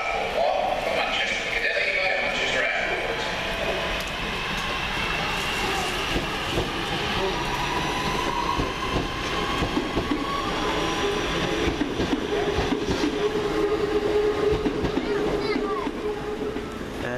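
British Rail Class 323 electric multiple unit 323235 pulling into a platform at Crewe station, a steady rumbling roll with wheel and rail noise that builds and holds throughout, with a faint voice over it.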